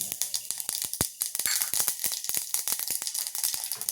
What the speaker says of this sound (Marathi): छान जिरे मोहरी तडतडलेत